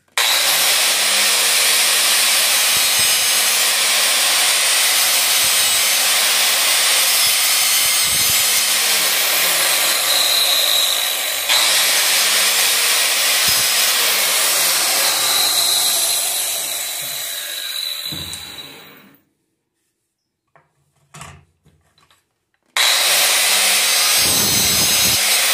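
A saw cuts through PVC pipe in long, continuous rasping strokes with a rhythmic push-pull pattern, then stops for a few seconds of near silence before the cutting resumes.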